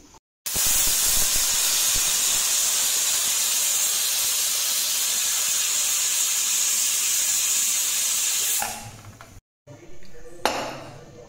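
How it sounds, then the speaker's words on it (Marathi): Steam hisses loud and steady from a pressure cooker whistle as tomatoes cook for homemade ketchup, a continuous venting rush lasting several seconds before cutting off into quieter kitchen noise. "आणि आता मी याचं कुकरला 3 शिट्ट्या घेऊन टाकते."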